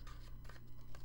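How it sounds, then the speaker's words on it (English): Scissors snip through paper to trim corners, with a few quick, faint cuts over a low steady hum. "I need to go ahead and trim these 2 corners so they'll match the"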